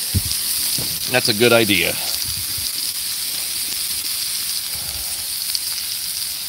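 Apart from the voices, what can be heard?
onions sizzling on a Blackstone griddle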